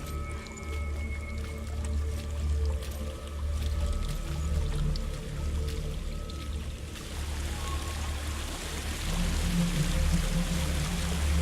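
Water flowing and splashing in Hellblade: Senua's Sacrifice, a steady watery rush with squelching pours that swells louder toward the end, with no talking.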